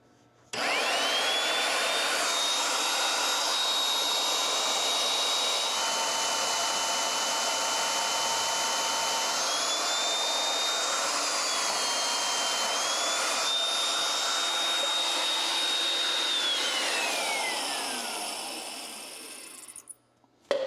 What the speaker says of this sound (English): we have our mag drill, and we're using one of the slugger bits